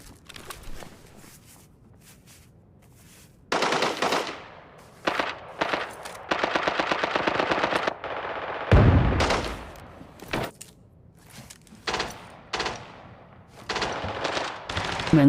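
Bursts of automatic gunfire in the shooter game Arena Breakout, from a C79 or similar rifle, come in loud rapid volleys separated by short pauses, with single shots and quieter stretches in between.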